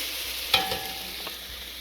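A pepper and onion mixture browning in a pan, a steady close sizzle with one sharp utensil knock and a few light scrapes as it is stirred.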